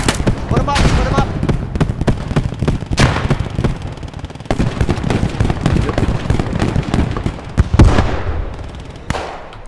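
Bombing explosions in the Post Scriptum war video game, heavy blasts and booming impacts mixed with gunfire cracks, dense and loud throughout with a big hit near the end.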